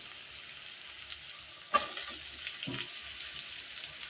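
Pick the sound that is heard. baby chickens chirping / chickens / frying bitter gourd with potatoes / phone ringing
frying bitter gourd with potatoes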